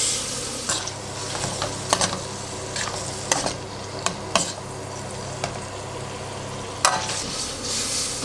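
Escargots hit a hot wok and fry with a steady hiss, punctuated by several sharp clicks and scrapes of stirring utensils against the metal, close and fairly quiet.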